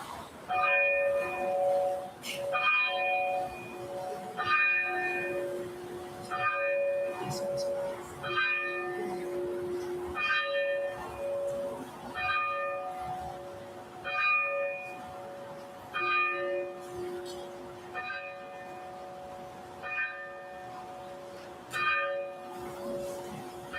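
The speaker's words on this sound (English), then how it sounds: "we will ring the historic Tower Bell honoring the class of 2026" A historic school tower bell rings at a high school graduation in Williamsville, repeated clear strikes at a steady slow pace with long sustained ringing tones throughout, fairly near, with faint crowd murmur beneath.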